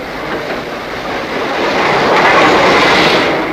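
A loud rushing rumble of the North Briton express train arriving at York station, swelling steadily louder as it draws near, with no voices.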